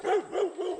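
Dogs barking at a cyclist, three quick close barks in a row, loud and alone with no talk.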